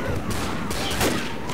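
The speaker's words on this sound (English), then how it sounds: "Walked into my gunfire." Rapid bursts of automatic gunfire from the zombie video game Left 4 Dead fill the moment, loud and continuous, with players talking over the shots.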